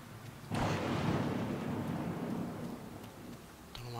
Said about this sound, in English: Don't know why lightning went off as soon as I punched by accident.